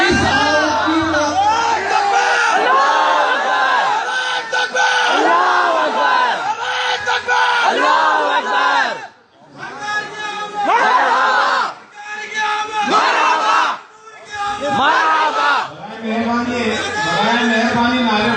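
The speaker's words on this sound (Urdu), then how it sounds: "برائے مہربانی نعرے مت لگائیے" A large crowd at a religious gathering loudly chants slogans in unison, with repeated bursts of collective shouting that briefly break off between phrases.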